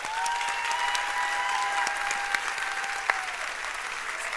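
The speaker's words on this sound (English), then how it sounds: "please join me in giving everyone another round of applause" An audience at a school district celebration applauds the community, school board members and administrators with steady, continuous clapping and a couple of sharper claps standing out near the end.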